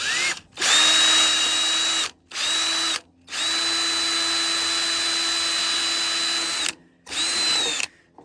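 A cordless drill whines at high speed in several bursts while drilling into a gutter, stopping briefly between runs, close by and steady while running.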